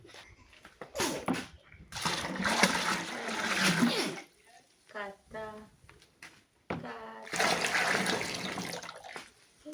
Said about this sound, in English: I'm going to add in some water, like 5 liters, and then mix it